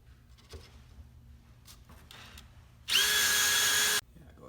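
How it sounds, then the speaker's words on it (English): A power drill bores a pilot hole into a wall stud while a profile rack wall bracket is being mounted, one steady, loud burst of about a second after quieter handling noises. "I'm going to drill my pilot hole again at 19 inches"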